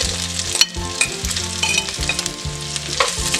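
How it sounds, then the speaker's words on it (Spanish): Bacon and sausages fry in a pan with a steady crackling sizzle, broken by repeated scraping and stirring strokes, close and moderately loud with no voices. "El tocino, ahora aquí mismo le vamos a poner las salchichas."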